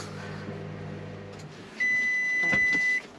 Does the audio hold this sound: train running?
no